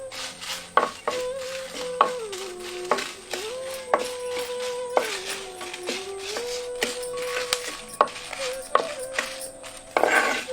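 Six dried red chillies and three Kashmiri chillies are dry-roasted with salt in a pan, with a steady stream of scraping, clattering stirs and a faint sizzle, close and continuous.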